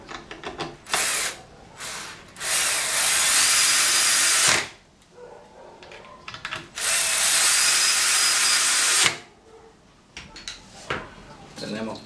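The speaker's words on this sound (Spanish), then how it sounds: "Procedemos a atornillar que siempre esté a ras." Power drill driving screws into a bathroom cabinet, heard as two long, loud whirring bursts between shorter stops and clicks, close by and with no talking.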